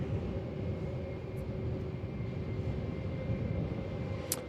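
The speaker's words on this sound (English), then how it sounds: "Our Jetstar's finally moving. Off to the Gold Coast." A Jetstar airliner taxiing at Melbourne Airport gives a steady, fairly distant engine rumble with a faint high whine, holding even throughout with no talk over it.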